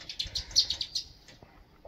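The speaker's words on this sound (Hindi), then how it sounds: "गाइस देखिए चिड़ी कैसी आवाज़ निकाल रही है" A small bird chirps in the Himachal Pradesh hills: a quick run of about eight bright, high tweets in a steady rhythm, close and fairly clear, then it falls quiet with no talking.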